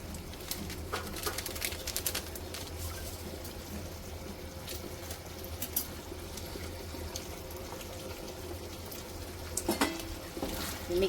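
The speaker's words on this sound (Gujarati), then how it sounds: "મિક્સ કરી લે બરાબર સારી રીતના બધું." Creamy white sauce pasta with chili flakes and oregano is stirred in a pan, giving a continuous wet, sizzling swish with soft scraping taps, fairly quiet.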